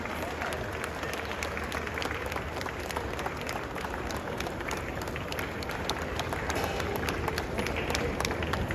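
An audience at an awards ceremony in Ghana applauds continuously, a dense, steady wash of clapping from a large crowd with no pauses.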